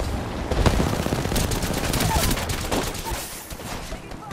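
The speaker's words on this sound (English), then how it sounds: "Oh, is that our airstrike?" Airstrike in Apex Legends: a loud cluster of rapid blasts and crackling bursts landing close together, sustained for several seconds amid the battle.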